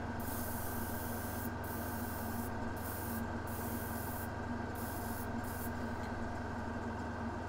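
Airbrush spraying a coat of paint onto Dark Eldar miniatures, a faint, continuous airy hiss held steady throughout with no voices.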